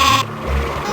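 A single short, loud sheep bleat from the video game Spy Fox 2, close and clear, ending abruptly.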